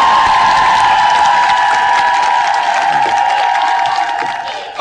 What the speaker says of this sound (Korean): 이정현 씨와 정면 댄스 대결을 펼칠 리원장을 박수로 모시겠습니다